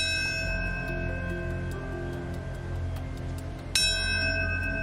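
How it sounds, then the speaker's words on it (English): A memorial bell tolls at Ground Zero during a September 11 anniversary ceremony, its long ringing tones hanging in the air before a fresh strike rings out near the end. "there was the sound of a bell tolling in mourning"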